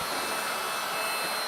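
A heat gun blowing a steady, loud rush of hot air to soften vinyl, a continuous close whoosh with no break and no voices.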